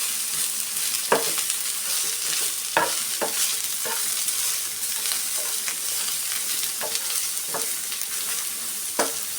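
Black pepper and spices frying in a hot pan, a steady close sizzle with intermittent stirring scrapes and clicks throughout, no voices.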